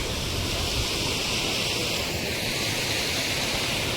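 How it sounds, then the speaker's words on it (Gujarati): Steady broadband rush of a mountain stream flowing at Muktinath, Nepal, continuous and fairly close, with some wind noise mixed in; no voices. "અહીં જોડેથી જ ઝરણાનું પાણી જઈ રહ્યું છે"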